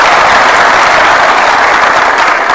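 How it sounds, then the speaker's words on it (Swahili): Loud, dense applause from a crowd at a State House event hosting a football club, continuous clapping close up for the whole short stretch with no voices. "Mpigeni makofi."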